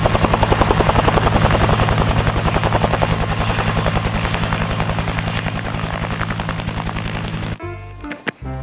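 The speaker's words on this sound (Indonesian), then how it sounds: "lihat teman, di sini ada helikopter" A toy helicopter whirs with a rapid, steady chopping rotor beat for several seconds, then stops abruptly, leaving a few faint knocks.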